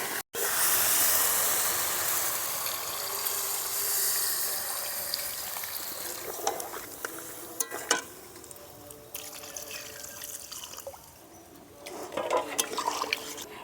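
Water is poured into a hot pan of cooked jackfruit and potato, bursting into a loud sizzle and hiss that slowly settles into softer bubbling and crackling.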